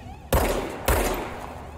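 Gunfire in the video game Control: two loud, sharp shots about half a second apart, each followed by a lingering rumbling tail, with no talk over them.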